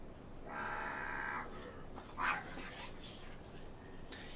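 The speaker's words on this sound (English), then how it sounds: "Goodness, dogs. Silly mutts." Dogs whimper and give a few faint, distant yips and barks behind a steady hum, the sounds soft and intermittent rather than loud.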